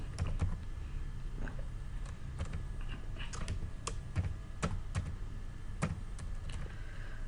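Steady typing on a computer keyboard, irregular clusters of crisp key clicks over a low background hum, close and moderately loud, with no talking.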